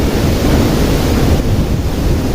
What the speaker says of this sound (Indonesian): Ini ada 2 air terjun ya teman-teman